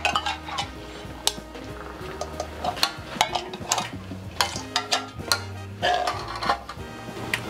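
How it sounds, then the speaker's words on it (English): Metal utensil stirring and mixing a heavy batch of Buddha's Delight (Lo Han Jai) with fried balls and garlic in a pan, a busy run of scraping, clinks and knocks throughout, close by, with faint voices in the background. "Mixing the final dish together."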